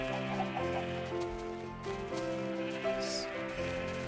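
Chickens clucking in Minecraft, soft scattered clucks set against a quiet, even background of game music and ambience, with a brief rain-like hiss toward the end.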